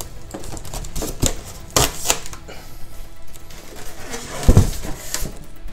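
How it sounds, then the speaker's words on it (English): Packing material is unwrapped from a large 1:3 scale collectible statue, giving irregular rustling, crinkling and scattered sharp crackles and thumps at close range. "as I unwrap the material"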